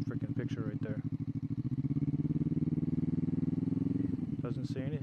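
A motorcycle engine chugs close by in a steady, pulsing rumble, with people speaking briefly at the start and end.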